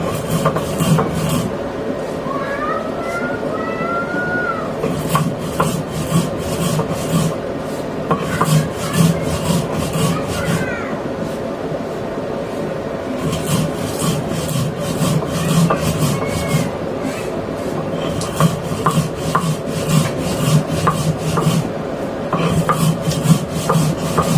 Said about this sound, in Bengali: পাঁচফোড়ন শুকনো মরিচ সবগুলো আমি গুঁড়ো করে নেব